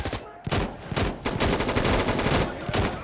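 Sniper fire in Operation Valkyrie, a video game, with loud, sharp shots and fast repeated bursts close by, a brief lull near the start, then sustained rapid firing.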